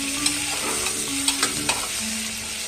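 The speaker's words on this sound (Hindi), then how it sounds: "अब हम प्याज को अच्छे से भूनेंगे।" Chopped onions for a mutton curry frying in hot oil with cardamom, a steady close sizzle broken by several sharp scrapes and knocks of a spoon stirring the pan, with no talking.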